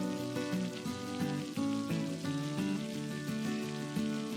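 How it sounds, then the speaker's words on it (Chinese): Beaten egg fries in hot oil over low heat, a quiet, steady crackle and spatter heard beneath prominent melodic background music. "油热后加入鸡蛋液，用小火将它稍微煎至定型"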